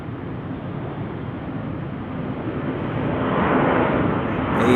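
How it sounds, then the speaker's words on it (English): Delta Airbus A321 departing at night from Salt Lake City airport, a broad jet engine roar that swells steadily louder toward the end, with wind rumble at the microphone and no talking. "Delta Airbus."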